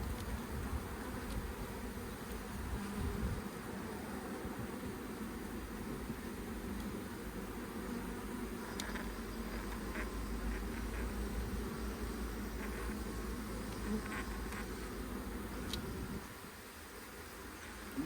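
A five-year-old honey bee colony hums with a steady, dense buzz while being relocated and its comb cut out, with faint handling noises throughout.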